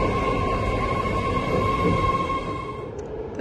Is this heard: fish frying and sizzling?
no